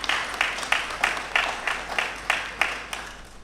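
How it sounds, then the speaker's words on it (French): An audience at the JMCA 2020 official ceremony applauding, heard as a run of evenly spaced claps about three per second, moderately loud and somewhat distant. "Je souhaiterais que nous l'applaudissions très fort."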